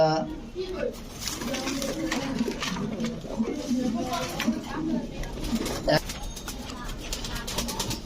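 Fancy frillback pigeons at a pigeon farm coo in low, throaty murmurs over a busy background of voices and general bustle, the cooing fairly steady throughout.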